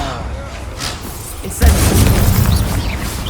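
A Confringo blasting spell in Hogwarts Legacy bursts into a sudden loud boom midway, followed by a rumbling, crackling blast tail, with a voice speaking before it.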